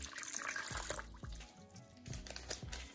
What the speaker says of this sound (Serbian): to ćemo zaliti sa 500 ml vode